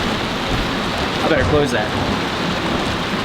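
Heavy rain pours down hard on a camping truck during a severe thunderstorm, a loud dense continuous roar, while a person talks briefly over it.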